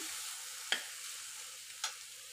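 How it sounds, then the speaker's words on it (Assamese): Mustard paste fries quietly in a pan for a koi fish and pumpkin curry, giving a soft, steady sizzle broken by two brief stirring scrapes. "সৰিয়হখিনি দি দিয়াৰ পিছত এইখিনি ভাজা হৈ গ'ল"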